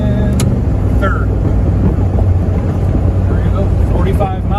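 A Mutt Ford Ranger truggy drives on the road and shifts up through first, second and third gears, its engine rumbling loud and close under heavy wind noise.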